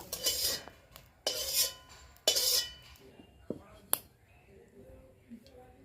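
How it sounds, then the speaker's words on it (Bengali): Eggs being scrambled in a pan as a red chow mein dish is made, with three loud bursts of scraping and clinking followed by softer taps and a sharp clink, and faint talk in the background. "আমি ডিমটা পুরো ঝুড়ো করে নেবো"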